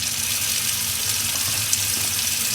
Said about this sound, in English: So I'm going to turn on the water,